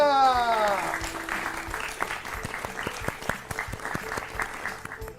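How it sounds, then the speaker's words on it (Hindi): Loud applause fills a classroom during a children's education quiz show, a dense burst of clapping rising after a short musical sting and continuing steadily to the end with no talk. "और इसी के साथ जोरदार तालियां।"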